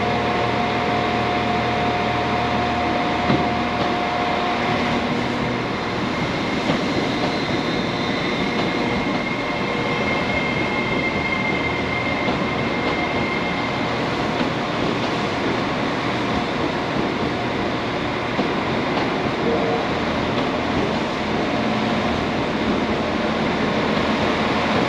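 Rail noise from a Class 805 train on the London Euston service at Birmingham station, a steady rumbling, rolling drone that holds for the whole stretch with faint high squeals and no talk.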